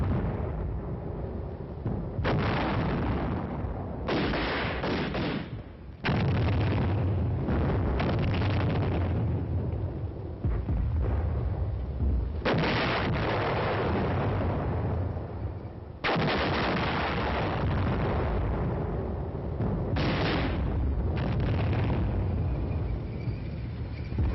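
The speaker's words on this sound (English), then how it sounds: "On Hill 501, enemy forces are alerted to Team Charlie's advance and commence firing defensive fires." Enemy defensive gunfire and artillery fire on a hill during a night tank attack, with loud, dense, rolling bursts of shots and booms in repeated waves, muffled and band-limited like an old film soundtrack.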